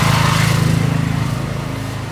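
A LEX or KS petrol inverter generator runs steadily under an electrical load, a loud, continuous engine drone with a low buzzing hum that holds even throughout, with no voices.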